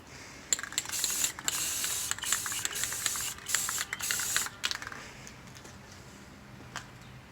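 Clear coat is sprayed in short hissing bursts around a BMW E46 330Ci engine bay, several quick passes separated by pauses, fairly quiet and close, with no speech.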